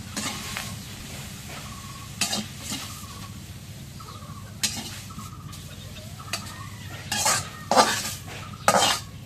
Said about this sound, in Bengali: এখন শাকটা তেলানি দিই